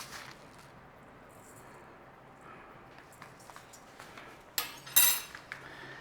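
Marinade for Chinese takeaway-style ribs is mixed in a bowl, with soft, quiet stirring and scraping followed by a few sharper clinks of utensil against the bowl near the end.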